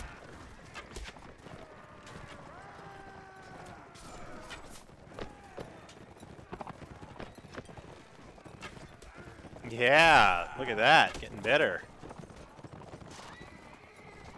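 In a video game, horse hooves clip-clop steadily throughout while someone comments, then a loud neighing whinny bursts out in three rising, shaking calls near the end.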